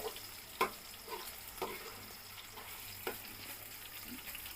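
Vegetarian soya chunks fry in a pan, a faint low sizzle with a handful of soft scraping and tapping stirs spaced a second or so apart, quiet and without voices.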